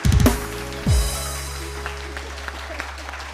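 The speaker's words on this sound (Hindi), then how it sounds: "तालियां बजाएं ताकि पता चले" A studio audience on a live TV morning show breaks into a short burst of loud clapping, then quickly fades into a low hum with scattered faint claps.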